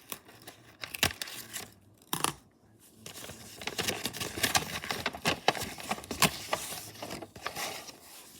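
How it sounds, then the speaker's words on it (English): Scissors cut through tape on a Sanrio blind bag package, giving quiet snips and crinkling plastic rustles close by, with irregular handling noises and no talk. "we are going to grab my scissors and cut through it."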